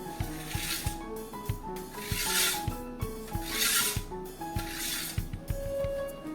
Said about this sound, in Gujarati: હવે આપણે શેપ આપવા માટે કાપા પાડી લેવાના છે